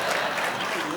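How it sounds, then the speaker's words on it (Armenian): Brief burst of audience applause at a live comedy league show, a steady wash of clapping with crowd noise lasting about a second. "Մի հատ է ծափարեք։"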